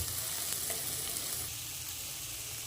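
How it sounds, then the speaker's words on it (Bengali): Spices and cumin powder stirred in a hot pan with oil while cooking chela fish, giving a steady, close sizzle of frying throughout with no talk. "এবার দেবো এক চামচ জিরে গুঁড়ো দিয়ে এটাকে ভালো করে একটু নেড়ে নেব"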